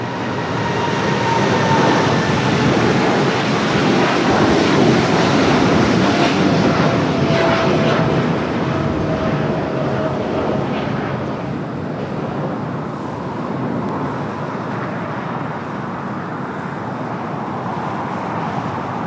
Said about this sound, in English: It is Philippine Flight 113 heading back to Manila.